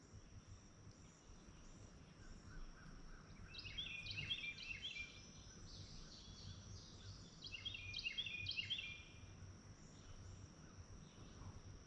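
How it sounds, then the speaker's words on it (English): Faint, distant bird chirps come and go in bursts over a quiet outdoor background with a steady high insect-like hum. "A lot of birds."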